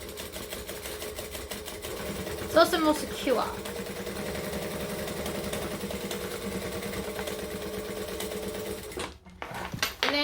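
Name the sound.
sewing machine stitching a second row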